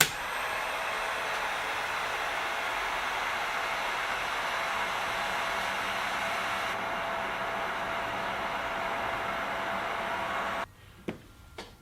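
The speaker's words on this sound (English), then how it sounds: "Next up, we have a heat gun test." A heat gun set on high, powered from an Anker Powerhouse 767 power station, blows a steady, loud whooshing hiss for about ten seconds, then cuts off with a couple of clicks.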